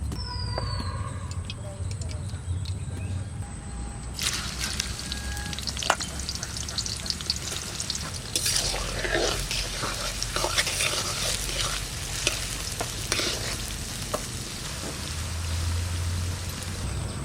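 Oil heating in a kadai for frying onions while cooking Hyderabadi chicken biryani, starting quiet and then turning into a steady crackling sizzle with occasional clinks and scrapes, close and continuous.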